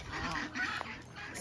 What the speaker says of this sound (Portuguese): os gansos canadenses aqui, ó, foi um presente do Marcos Tubarão